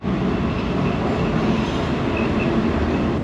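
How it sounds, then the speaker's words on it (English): A Los Angeles subway train rumbles along on its way to downtown, a loud, steady roar of wheels and carriage noise heard from inside, continuous and close with no break. "On the subway heading to downtown LA."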